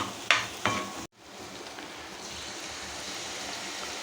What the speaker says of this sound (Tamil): இப்போ இந்த ஸ்டேஜில் நம்ம தண்ணி கொஞ்சம் ஊற்றிக்கலாம்